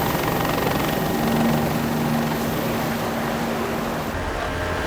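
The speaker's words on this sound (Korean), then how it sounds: "헬기가 먼저 정찰을 떠나고" A helicopter flies out on reconnaissance over the open ocean near Kiribati, its steady rotor and engine roar loud and continuous throughout, with a faint tonal whine and no voices.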